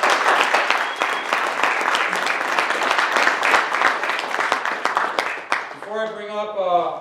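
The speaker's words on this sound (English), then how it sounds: "Another round of applause for Daniel, please." Sustained applause from a crowd at a speech event fills several seconds, then fades as a voice begins speaking.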